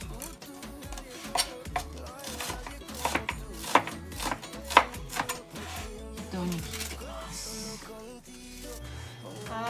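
Bacon chopped with a knife on a cutting board, a run of crisp, irregular knocks close by, some quick and clustered, over quiet background music.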